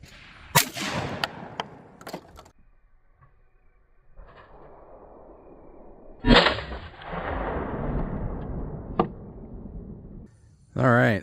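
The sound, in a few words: Browning Sweet Sixteen 16 gauge shotgun firing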